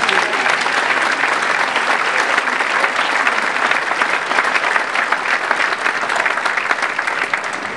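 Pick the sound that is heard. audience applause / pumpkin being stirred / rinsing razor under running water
audience applause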